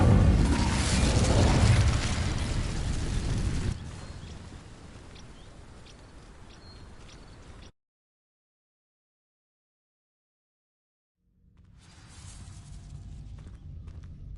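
An Incendio fire spell sets dry vines ablaze in Hogwarts Legacy, giving a loud roaring burst of flame that fades into a lower crackling hiss, then cuts out before a quieter rustling return.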